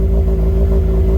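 A $300 budget Mazda Miata running on a SpeedyEFI plug-and-play setup while warming up: a loud, steady engine drone with a low, slightly uneven pulse, close by and without speech.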